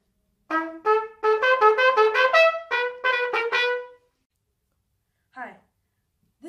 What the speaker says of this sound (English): This is the trumpet. It's a member of the brass family, and it sounds like this.